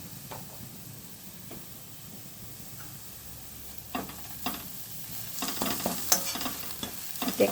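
Pumpkin leaf paste stirred with salt and a little turmeric in a large steel wok, a quiet scraping and soft sizzle that builds into louder, irregular stirring scrapes in the second half.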